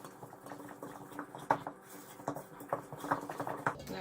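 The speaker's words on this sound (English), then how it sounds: "we're going to stir that together instead of using the mixer" Wet and dry baking ingredients stirred together by hand in a bowl, giving soft, irregular scraping and patting strokes at close range, fairly quiet, with no talking.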